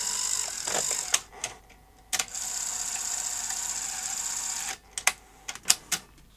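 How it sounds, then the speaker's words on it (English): A Sony SuperBeta SL-HF900 VCR, just repaired after a spring fault, draws in a Beta tape with a steady whirring motor hum broken by sharp mechanical clunks and clicks, close and fairly quiet. "And now, will it take the tape in properly?"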